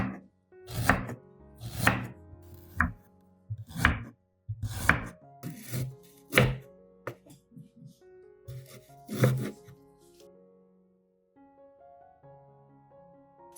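A knife slices fresh ginger on a cutting board, a series of distinct close chopping knocks at an uneven pace that thin out toward the end.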